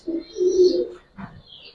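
A silver khaki Giribaz pigeon gives a close, clear coo: one sustained throaty note, then a shorter second coo after a brief pause.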